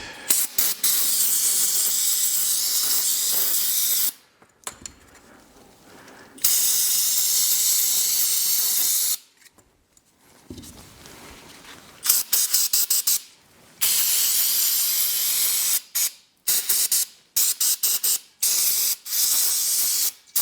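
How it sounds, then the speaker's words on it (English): Carburetor cleaner sprayed onto disassembled Honda CR250 motorcycle carburetor parts: loud, close aerosol hissing in repeated bursts, several long blasts followed by many short quick squirts with brief silent gaps between them. "we can just take a carburetor cleaner first and get rid of these heavy things"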